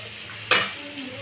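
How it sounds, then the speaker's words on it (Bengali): Cashews and raisins stirred in a hot pan for cholar dal: a single sharp spoon scrape cuts across a low, steady sizzle, then fades back to gentle frying. "দিয়ে আমি এটাকে এইভাবে একটুখানি নেড়ে নিচ্ছি।"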